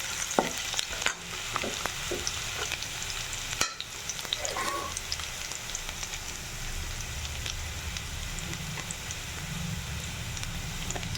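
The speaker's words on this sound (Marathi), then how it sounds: "कांदा फ्राय होत आहे। ठेचलेलं लसूण जिरं टाकलेलं आहे। लसूण जिरं फ्राय करून घ्यायचं।" Onion, crushed garlic and cumin sizzle steadily in oil in a pan, with a few clinks and scrapes of stirring early on. The frying stays close and even throughout.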